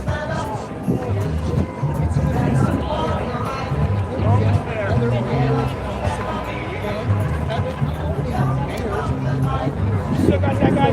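Crowd chatter at a No Kings rally in Wilkes-Barre, a steady babble of many voices with talk layered throughout, dense and continuous at moderate loudness.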